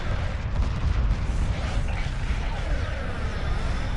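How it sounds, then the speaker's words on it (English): Heavy weapons fire in a Homeworld space battle, a dense continuous barrage of booming blasts and rumbling impacts, loud and sustained with no talk over it. "Heavy fire confirmed."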